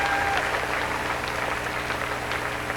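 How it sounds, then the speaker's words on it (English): A theater audience at the 1999 Miss Utah Pageant claps for the backstage stage crew, a steady wash of dense applause that stays loud and even from start to finish. "you'd give them a real big round of applause"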